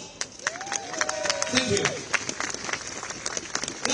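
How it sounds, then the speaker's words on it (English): An outdoor crowd at a London protest against China's planned mega embassy at Royal Mint Court claps in a burst of scattered applause, with a voice briefly heard near the start. "Please give them a round of applause."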